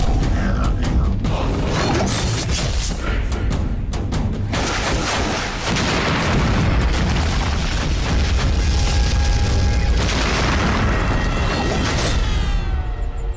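Loud booming blasts and rumbling detonations in an animated Shaktimaan episode, several heavy explosions in succession with crackling debris and mechanical clatter.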